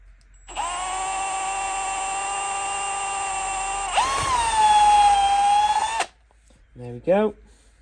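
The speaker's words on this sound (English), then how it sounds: "I'm going to very carefully drill through to the other side." A power drill with a 4.5mm bit bores through a Hillman Imp gear stick ball, giving a loud, steady whine. The pitch drops and strains as the bit bites, then the drill cuts off abruptly and a short voice follows.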